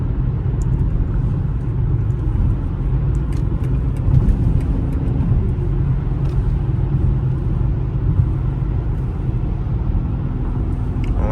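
A BMW X3M cruising on the road, heard from inside the cabin as a steady low engine and road rumble that holds constant with no talking.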